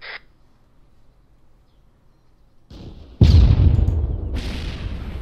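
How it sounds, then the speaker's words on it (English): A tank fires during an infantry field training exercise: after a faint lead-in, a single sudden, loud, heavy blast rolls out and decays slowly into a lingering rumble. "Roger, that's a tank."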